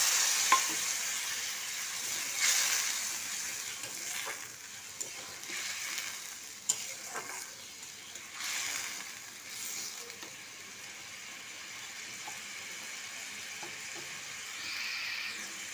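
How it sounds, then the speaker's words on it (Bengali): Water poured into a frying egg curry with spices sets off a hissing sizzle that flares in bursts during the first seconds. It then settles into a quieter, even bubbling, with faint stirring clinks. "ভাজা হয়ে গেছে, এবার জলটা দিয়ে দিলাম।"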